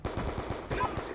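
Rapid automatic gunfire from a drop shot in a first-person video game shooter crackles out in fast repeated bursts, fairly quiet overall, with no talking over it.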